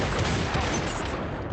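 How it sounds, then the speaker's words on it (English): Dense, continuous gunfire from the VR shooter Population: One, a steady wall of overlapping shots sustained and loud throughout. "look how many bullets you just fire at one person"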